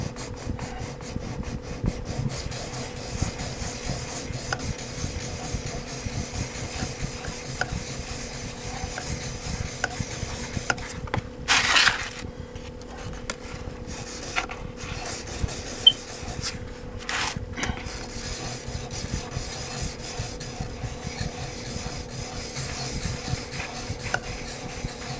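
Scissors blade being sharpened by rubbing it flat against a fine sharpening stone, with pressure toward the cutting edge: a steady, continuous close-up rasping scrape for the whole stretch, with a couple of brief louder scuffs partway through.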